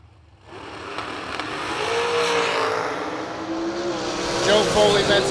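Drag racing cars roar off the line and scream down the strip, engine noise building from a sudden start into a loud, sustained rising whine, with an announcer talking over it.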